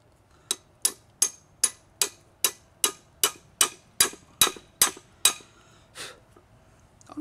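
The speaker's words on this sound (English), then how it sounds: "I have a ratchet you actually use for a hammer." A ratchet used as a hammer makes a dozen sharp metallic strikes on a Jeep Wrangler TJ axle U-joint in a steady rhythm, about two per second, close and distinct, ending with a softer knock.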